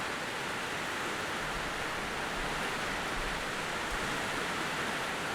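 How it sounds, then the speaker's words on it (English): Heavy rain pouring down outdoors, a steady, dense hiss that fills the whole clip at an even level with no breaks and no voices. "it is bucketing down outside"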